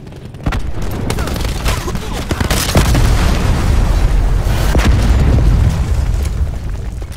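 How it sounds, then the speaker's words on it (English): Cluster grenade explosions in Call of Duty Black Ops 4 multiplayer: a loud, close series of overlapping booms and bursts that build into a sustained rumbling roar. "Throwing cluster grenade."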